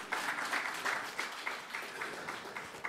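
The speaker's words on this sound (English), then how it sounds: "Give them a round of applause, guys." An audience at a Bollywood media launch event gives a round of applause, a fairly quiet but steady patter of many hands clapping throughout.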